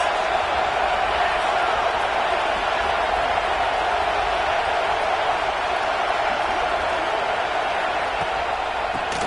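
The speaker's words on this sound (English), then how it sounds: "This crowd trying to make life miserable for this offense" Steady, dense stadium crowd roar from a Madden football video game, a continuous broadband wash of fans holding at an even level throughout with no clear peaks.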